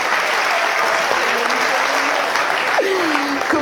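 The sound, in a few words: audience applause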